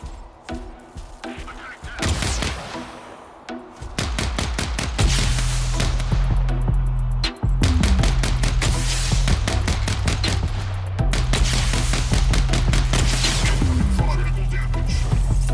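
Rapid weapon fire in the mech combat game Mech Arena, with dense bursts of sharp repeated shots and heavy thumps over a low mechanical drone, loud and continuous, with a short break midway.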